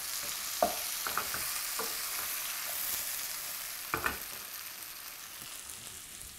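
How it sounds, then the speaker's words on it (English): Zucchini stirred with curry powder in a pan over medium-low heat, with a soft background sizzle and a few distinct clinks and scrapes from a utensil against the pan. "you stir this until the zucchini is well coated"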